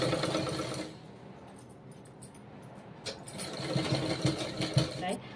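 A sewing machine stitches a dress made from a saree, its whirring run broken by a pause before starting again, moderately loud and close.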